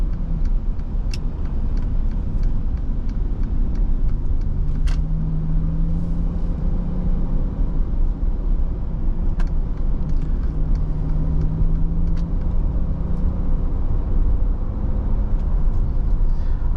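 A 2017 Mercedes-Benz SL65 AMG Designo accelerating hard, its engine a steady loud rumble from inside the cabin with road noise, continuous with no talk.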